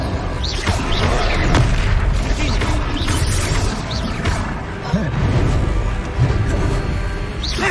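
Confringo fire spells in the video game Hogwarts Legacy burst into repeated booming explosions amid a dense, continuous wash of combat effects.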